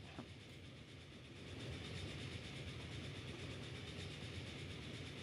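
A train runs on rails in the 1913 era of Transport Fever, a steady close rumble that swells after a second into a dense, continuous rolling clatter with no voices.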